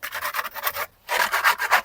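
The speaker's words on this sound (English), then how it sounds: "then using a trowel, scrape around all the edges" A trowel scrapes around the edges of a hardened silicone base coat in steady, close, rasping strokes, with a short pause partway through before the scraping resumes.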